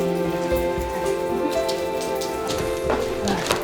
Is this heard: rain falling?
yes